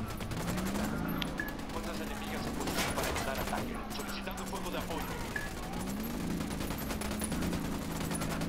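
Dense automatic gunfire in Ghost Recon Wildlands, rapid bursts of shots crackling continuously alongside game sounds, with a voice talking over the shooting.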